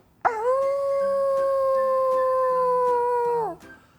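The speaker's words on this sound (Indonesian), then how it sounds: "Serigala ketika berteriak" A wolf lets out a single long, loud, sustained howl that holds a steady pitch for about three seconds before dropping off sharply.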